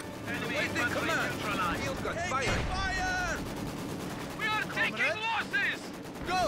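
Machine gun fire rattles in bursts through a Company of Heroes 2 battle, mixed with other gunfire and explosions, while someone talks over the combat throughout.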